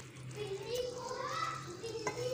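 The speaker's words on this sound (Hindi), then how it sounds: "पीछे शोर आपको आ रहा है, ये रानियाँ शोर कर रही है।" Children's voices chatter and call out in the background of a home kitchen, a faint, continuous mix of high, shifting voices with a low steady hum underneath.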